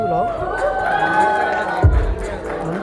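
Audience at a media lunch event clapping and cheering for a contestant, a lively crowd noise heard under a host's amplified voice speaking over it, with a louder burst near the end.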